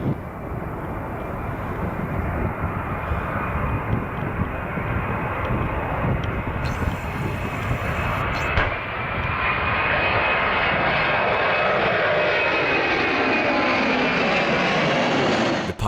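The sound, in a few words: Airbus A300 airliner taking off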